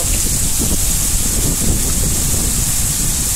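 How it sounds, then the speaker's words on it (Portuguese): Rain falls steadily at a rural country property, a dense continuous hiss with wind buffeting the microphone and no talk. "tá caindo água"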